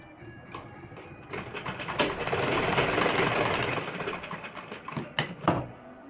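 A sewing machine stitches a seam on a collared kurti, running in a steady whirring burst for several seconds and then a few shorter runs with sharp clicks near the end, close and loud.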